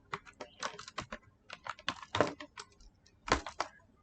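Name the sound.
typing code on a computer keyboard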